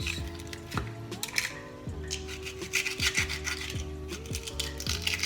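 A knife slices hot pepper into rounds on a board, giving a steady series of rasping cuts and taps over a low tonal background hum.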